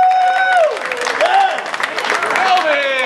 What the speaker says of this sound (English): Let's give these guys a big hand